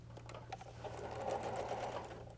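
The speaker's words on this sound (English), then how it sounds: "We'll sew this piece together, starting right at the edge." A sewing machine runs steadily, stitching quilt pieces together along a seam from the very edge, its continuous motor whir and needle clatter close and even throughout.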